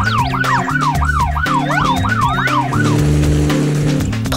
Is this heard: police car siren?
yes